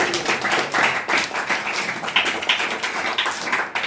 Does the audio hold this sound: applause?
yes